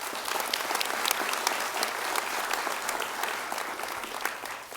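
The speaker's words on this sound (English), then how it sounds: "A big round of applause for Rachel Williams of Farmington." An audience at a volleyball awards ceremony claps in a sustained, dense round of applause, close and steady, fading slightly at the end.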